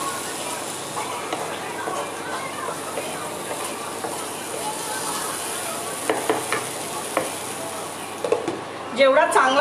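Masala for misal sautéing in a pan, a steady soft sizzle with occasional scraping stirs, and a clatter of utensils at the end.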